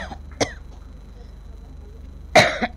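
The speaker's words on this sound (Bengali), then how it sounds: "আমারও তো কাশি হচ্ছে" A woman coughs twice, a short cough early and a harsher, louder burst near the end, against a faint steady hum during a devotional music gathering.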